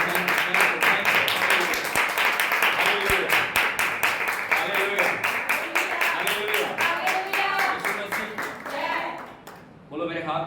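A church congregation claps hands in praise during worship, a dense, steady run of rhythmic claps filling nearly the whole stretch before thinning out near the end, with voices mixed in.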